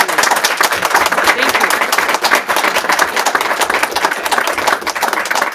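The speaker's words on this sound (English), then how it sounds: "Can we please give a round of applause for the mayor's team that has worked on this?" A crowd at a public presentation in Anchorage claps for the mayor's team, dense, loud clapping with a few sharper individual claps standing out, continuous throughout.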